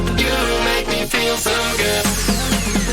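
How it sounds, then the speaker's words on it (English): Robotic, synthesized vocals with a vocoder effect over a dense electronic track, with shifting chordal tones and a steady heavy bass. "the vocoder that I have on the vocal"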